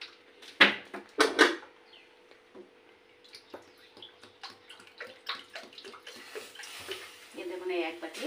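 Water pours into a bowl of sugar to make syrup for leaf-wrapped pitha, starting with two loud splashes followed by softer trickling, dripping and small handling noises close by.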